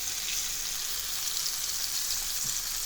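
Floured fish, bream or crucian carp, frying with onion in a pan gives off a steady, close, fairly loud sizzle with no voices.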